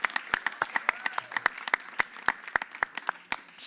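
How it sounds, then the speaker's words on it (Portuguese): An audience applauding for a poet at a poetry event, a small group giving sharp, separate handclaps in a loose rhythm, close and fairly light. "Palmas para o Pietro, por favor, pessoal."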